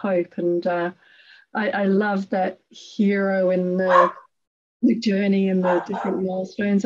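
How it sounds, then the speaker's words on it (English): A dog barks intermittently in the background, faint and partly masked beneath a woman's steady, close conversational speech throughout. "I'm so sorry about the dog in the background."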